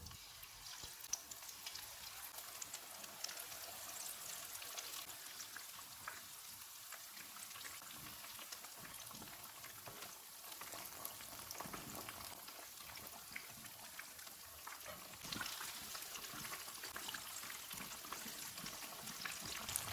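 Pieces of Lahori fish fry in hot oil over a low-to-medium flame, giving a steady, fairly quiet crackling sizzle that runs unbroken throughout.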